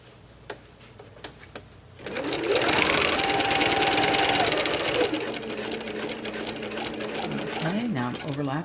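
A sewing machine starts up after a quiet moment and runs in a fast, steady mechanical whir while stitching and back tacking a paper-pieced tulip potholder, easing off slightly toward the end, where a voice briefly speaks.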